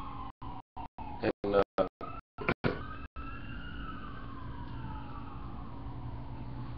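An ambulance siren passes along a road, its wailing tone gliding up and down at moderate distance. The sound cuts in and out repeatedly during the first few seconds, then continues steadily.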